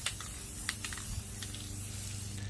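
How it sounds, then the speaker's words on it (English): A spray paint can hisses steadily onto a factory wheel during a refinish, a continuous close, even spray that runs without a break. "I like to keep an even spray, but make sure you keep shaking that paint up."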